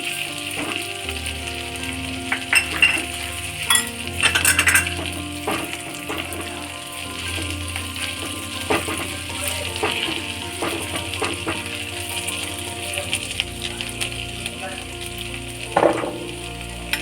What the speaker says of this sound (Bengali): গরম মশলাটা ফোড়ন দিলাম